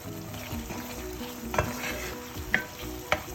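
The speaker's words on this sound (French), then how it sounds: "On va laisser mijoter, on va dire 2-3 minutes, le temps que notre sauce tomate rejette tout son huile." Tomato sauce sizzles and simmers in a pot with a steady frying hiss, while a few spoon or utensil clinks ring out against the cookware.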